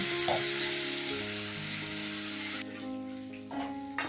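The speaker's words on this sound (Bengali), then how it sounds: "এবার এই ছোলা বাদামটাকেও হালকা করে ভেজে নেব" Chickpeas and peanuts fry lightly in hot oil, a steady close sizzle with a few soft clicks of the pieces shifting, continuing without any talk.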